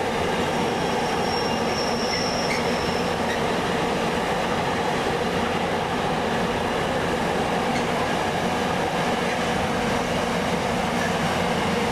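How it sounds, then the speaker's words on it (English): A train rumbles loudly and steadily as it passes close by through a station platform without stopping, with a faint squeal of wheels early on and no voices. "The train now approaching platform 4 does not stop here."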